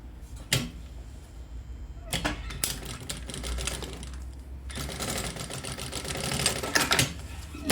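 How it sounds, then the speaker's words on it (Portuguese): A sewing machine stitches the side of a double-opening toiletry bag in quick mechanical runs of rattling stitches, separated by short pauses and stopping and starting several times. "Eu costuro uma lateral. Vou costurar outra."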